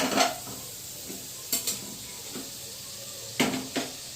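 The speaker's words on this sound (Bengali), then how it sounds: "1 মিনিটের মতন আমি তেলের সঙ্গে এই মশলাটা ভেজে নিচ্ছি" Spice masala fries in oil for a potato dum dish, with a low steady sizzle. Six or so scraping stir strokes of a spoon against the pan come in uneven bursts, fairly close, with no talk.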